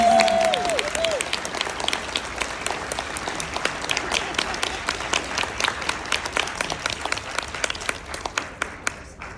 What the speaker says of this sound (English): let's give each of you all and our panelists another round of applause